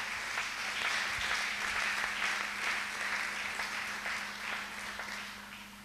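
A church congregation applauding together, a dense and continuous clapping that fills the room and slowly eases off toward the end.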